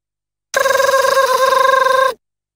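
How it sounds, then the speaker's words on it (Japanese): A telephone rings in the JoJo's Bizarre Adventure PS2 game, in a Vinegar Doppio scene: one sustained electronic ring burst, about a second and a half of steady warbling tone, heard clearly on its own. "今、電話鳴らなかったか"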